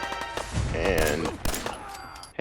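Gunfire in the video game Fallout 4, a burst of overlapping shots with music or sound effects beneath, moderately loud and dense, with a sharp extra crack near the middle and another at the end.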